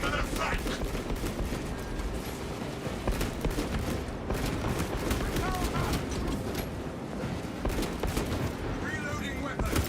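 Lasgun fire crackles in dense, rapid bursts during a Warhammer 40K battle, continuous volleys mixed with explosions, with voices calling out over the din.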